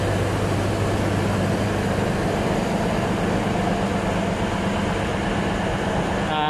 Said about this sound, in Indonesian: itu ada kereta BBM melintas ya